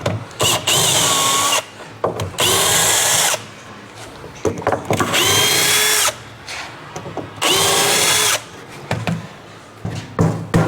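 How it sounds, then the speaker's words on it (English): Power drill backing screws out of a wooden roadside firewood stand, with four loud whirring bursts of about a second each separated by quieter pauses and handling noise. "So now I gotta remove the screws"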